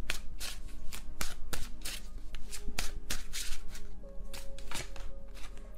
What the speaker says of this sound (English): If I could shuffle, that'd be great.